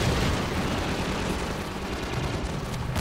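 Dense, continuous gunfire roars in Half-Life 2 as weapons shoot down a rocket, a loud wall of rapid overlapping shots and noise with no pauses, ending in a sudden break.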